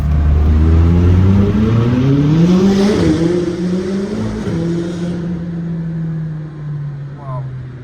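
A McLaren sports car accelerates hard, its loud engine note rising steadily in pitch through the gears before easing off into a lower drone, heard from close by with voices underneath.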